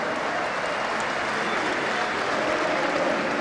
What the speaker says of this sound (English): Everyone in the audience, please, can I hear you cheer?